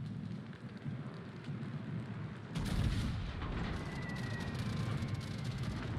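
Naval gunfire in a video game: a heavy, booming salvo bursts in about halfway through, loud and sustained over a constant rumbling background of engine and sea noise, with no talking.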